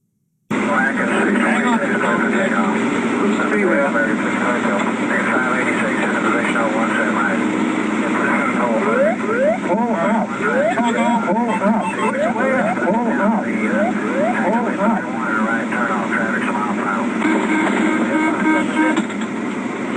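A cockpit recording from an aircraft caught in wind shear gives a continuous, loud, band-limited roar of engine and radio noise, with voices talking throughout and crackling static toward the end.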